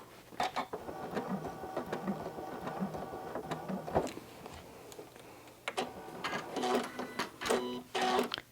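A sewing machine makes short, tapping stitch bursts to lock threads during free-motion quilting with yarn, the bursts starting and stopping irregularly, close and moderately loud.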